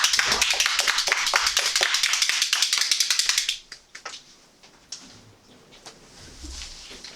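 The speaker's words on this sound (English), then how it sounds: "let's give him a big round of applause" An audience at a Toastmasters meeting claps together in a brisk, dense burst that lasts a few seconds, then drops off into scattered room noise.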